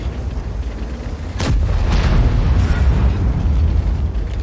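Heavy tank cannon blasts in a World of Tanks battle with a WZ-111 model 5A: a sharp loud boom at about 1.5 seconds, with a second shot near 2 seconds and a rumbling tail that holds over a steady low engine drone.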